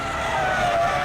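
An SUV skids out of control on a highway, a brief, steady tire scrub and engine roar lasting about a second, loud and continuous just before it hits a wrecker.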